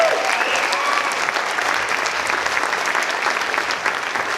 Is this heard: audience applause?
yes